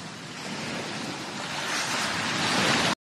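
Ocean waves washing onto a beach in an anime scene, a broad steady hiss of surf that swells louder toward the end before cutting off abruptly, with no voices.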